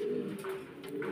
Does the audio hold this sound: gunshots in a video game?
no